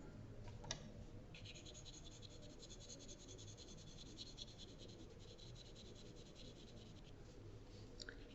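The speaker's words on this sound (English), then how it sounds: "The rest I'm going to do with charcoal pencil." Soft, steady scratching of a charcoal pencil dragged across paper, faint and continuous with occasional sharper strokes.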